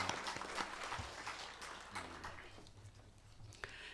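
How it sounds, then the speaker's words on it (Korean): A church congregation applauds during a Sunday worship service, with a dense spread of claps that starts strong, gradually thins and fades over a few seconds, and low background murmur underneath. "하나님께 영광의 박수를 올려드리겠습니다."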